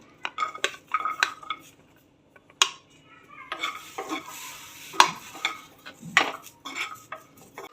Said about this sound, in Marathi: मध्ये आपण मिरच्या भाजून घेऊया लसूण पण भाजून घेऊया